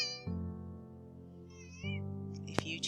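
A house cat meows a few times, a drawn-out call followed by shorter, rising cries, fairly close and clear over a quiet background.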